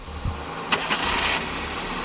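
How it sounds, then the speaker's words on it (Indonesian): An old car engine cranks with a short burst of starter whir, then catches and settles into a steady running hum, fairly close by. "Kemudian saya akan coba hidupkan mesinnya agar sedulur tahu."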